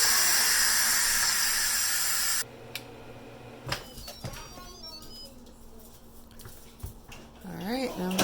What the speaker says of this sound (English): and then I'll quick release the pressure